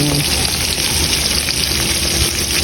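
Milkfish (bangus) frying in a pan, giving a loud, steady sizzle with crackling oil that runs unbroken through the whole moment.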